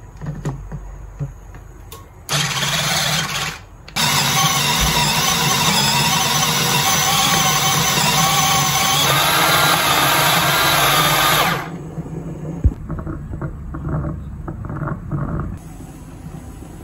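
An electric chopper grinds chilies in a home kitchen. A short burst of motor whir is followed by a longer, loud, steady grinding run, then it stops and a few light clatters follow.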